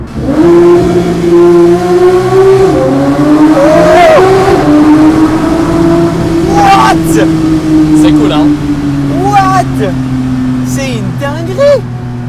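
A Porsche GT3 with a straight-pipe exhaust revs inside a tunnel, its loud droning note climbing and falling in several sweeps with sharp blips near the end, while people talk over it throughout.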